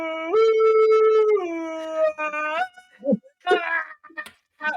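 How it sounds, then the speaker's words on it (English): Dog howling, a long tonal howl that slides and wavers, followed by shorter whimpering yips, close and fairly loud with a voice talking between them. "there's just Atlas just howling in the background"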